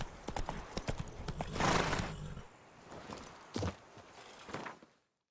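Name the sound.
Geralt's horse Roach walking, from the video game The Witcher 3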